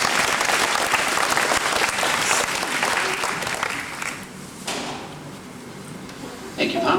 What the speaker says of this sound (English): Ladies and gentlemen, a round of applause for our two brave aviators.